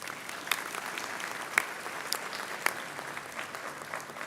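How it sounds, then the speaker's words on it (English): Polite round of applause from a graduation ceremony audience, a moderate, steady patter of many hands with a few louder individual claps popping out, heard alone without speech. "Let's give her a round of applause."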